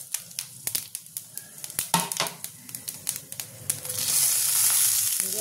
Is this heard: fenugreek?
yes